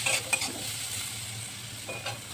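Potatoes fry in a pan with turmeric and salt while being stirred, giving a steady close sizzle broken by a few brief scraping strokes, with no voices.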